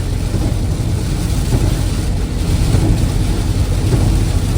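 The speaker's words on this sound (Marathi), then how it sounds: "बघा पाऊस." Heavy rain falls on a road near the Goa border during a truck journey, a loud, continuous roar of rain with low rumbling underneath and no speech.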